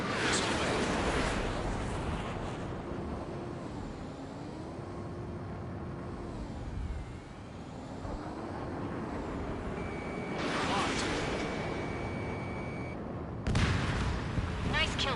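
A fighter jet fires a missile in Ace Combat 7: continuous jet engine roar with shifting pitch, then a loud whooshing launch burst late on, with radio voices talking over it.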